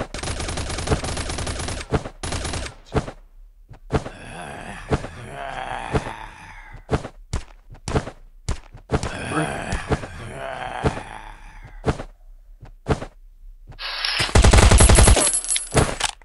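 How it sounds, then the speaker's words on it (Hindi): Gunfire in the survival shooter game Last Day Rules Survival, with bursts of rapid automatic fire and single shots spread across the clip and a dense, loud volley near the end, and someone speaking between them. "तो मैंने उसके ऊपर फायर करने का ट्राई किया"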